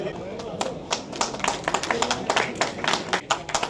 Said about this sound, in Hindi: तालियां जरूर बजाइए भाई